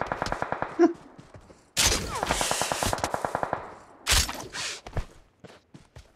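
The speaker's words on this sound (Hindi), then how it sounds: "के गोलियां मार रहा है कोई" Rapid bursts of gunfire in the video game BGMI, machine-gun rattles in quick rhythmic volleys separated by short pauses, loud and close, with occasional single shots.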